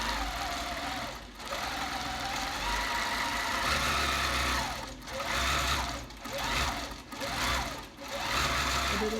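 A long arm quilting machine runs fast and loud in a steady, busy mechanical chatter, with a few brief dips and pauses in its drive.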